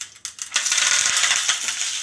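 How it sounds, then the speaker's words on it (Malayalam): Mustard seeds and curry leaves hit hot oil for tempering a rasam, bursting into a loud, close crackling sizzle after a few light clicks, with pops scattered through the hiss. "ഞാനൊരു വറവിടാൻ വേണ്ടിയിട്ട് കുറച്ച് കടുക്, കൂടെ തന്നെ കുറച്ച് കറിവേപ്പില,"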